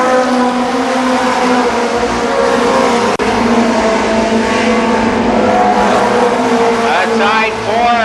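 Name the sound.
race cars battling on a speedway oval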